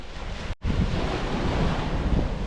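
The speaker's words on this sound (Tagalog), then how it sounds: "Lakas sa alon." Ocean waves at Puka Beach, Boracay, roar with a steady broad wash of surf and heavy wind buffeting the microphone, with one momentary dropout.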